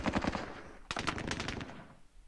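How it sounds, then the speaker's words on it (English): Suppression machine gun fire in the Squad Battles wargame comes as quick rattling bursts, a short string of rounds and then a second, longer burst that fades out, close and sharp. "It's time to put down some suppression fire on his units here."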